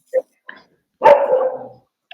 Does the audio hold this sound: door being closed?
no